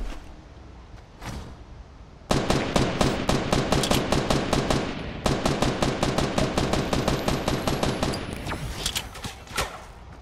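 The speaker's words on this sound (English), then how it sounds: "Where is the shooting going on?" Rapid bursts of automatic gunfire in a Fortnite match, loud and close, firing in two long sustained strings of evenly spaced shots with a short pause between and a few scattered shots before and after.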